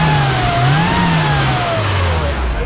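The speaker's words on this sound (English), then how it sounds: "Yeah, you can hear the exhaust." A turbocharged Nissan S15 with a big turbo setup revs on the street, its exhaust droning steadily with a rising and falling pitch, loud and close throughout.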